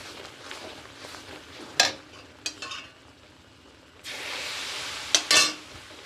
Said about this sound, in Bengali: এবার ঘিটাকে আমি অল্প অল্প করে দিয়ে দেবো আর একভাবে এইভাবে নেড়ে যেতে হবে।